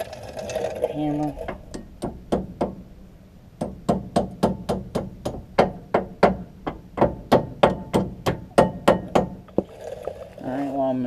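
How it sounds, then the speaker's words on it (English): Hammer blows during a front and rear Brembo brake job on a Mitsubishi Evo X, about two dozen sharp metallic strikes in quick, fairly even bursts, close and loud. "Hammer."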